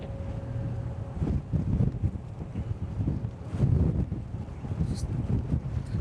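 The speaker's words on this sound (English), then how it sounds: "so windy." Strong wind buffets the microphone in gusty, low rumbling surges near the water off Sydney, with no speech over it.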